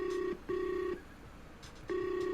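Telephone ringback on a recorded call: three short electronic ring pulses, each roughly half a second long, separated by brief gaps, heard clearly but at low level.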